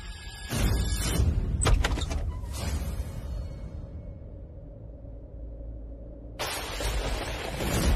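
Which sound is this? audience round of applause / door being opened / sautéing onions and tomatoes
door being opened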